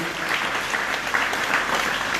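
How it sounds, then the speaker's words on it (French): Steady, dense applause from a festival audience at Pont-à-Mousson honoring participants, a continuous wash of many hands clapping close and loud throughout. "c'est tout d'abord qu'on les applaudisse"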